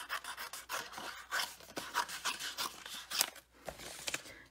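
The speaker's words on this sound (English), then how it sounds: "now I'm going to cut out the little kangaroo" Scissors snipping around a small stamped paper kangaroo for handmade cards, a quick run of crisp rustling cuts and paper rubs, close and fairly quiet, with no voices.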